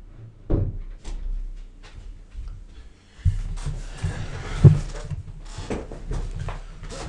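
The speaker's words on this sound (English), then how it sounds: "Need to close the door here." A door is shut indoors at home, with a soft bump early on and a firmer thud partway through, followed by rattling household noise and a faint hum in the background.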